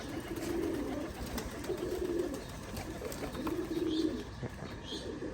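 Pigeons coo in low repeated phrases, three or four soft bubbling calls close by over a quiet background with a few faint chirps.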